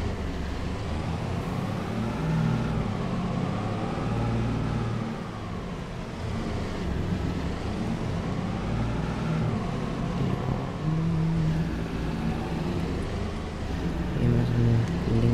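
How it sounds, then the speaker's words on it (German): A car drives past in Landwirtschafts-Simulator 22 (Farming Simulator 22), a steady engine rumble that swells and fades while someone talks over it. "Oh, da kommt ein Auto, das wir vielleicht nicht überholen jetzt"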